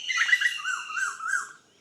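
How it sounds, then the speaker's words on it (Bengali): Several birds chirp and call along a village road in the morning, a run of bright, wavering tweets and whistles layered over each other, fairly close and clear with no talk. "গ্রামের এই রাস্তার হাঁটলে সকালবেলা পাখির ডাক শোনা যায় দেখুন"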